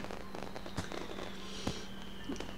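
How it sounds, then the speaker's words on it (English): Fireworks bang in the Katawa Shoujo visual novel, a few sharp soft pops spaced apart over a steady low background hum. "the loud bangs of the fireworks"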